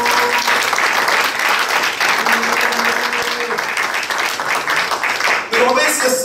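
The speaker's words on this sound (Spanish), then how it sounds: "Denle un aplauso al Señor." A church congregation claps loudly and continuously in praise, dense applause with a few voices and cheers mixed in, then a speaking voice returns near the end.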